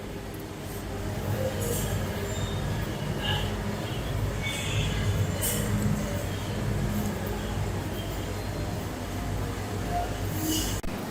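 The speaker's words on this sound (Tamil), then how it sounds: "இந்த பிளாட்ஃபார்ம்ல இருந்து தான் வந்து நம்ம 16527 கண்ணூர் எக்ஸ்பிரஸ் கிளம்புது." The Yeswantpur–Kannur Express, train 16527, stands at a Bangalore station platform; a steady rumbling rail and station din runs throughout, with faint scattered clanks and distant chatter.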